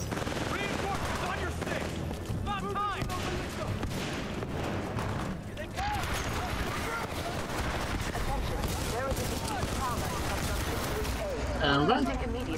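Sustained gunfire from Titanfall 2, dense bursts and booms running throughout with a player talking over the shooting.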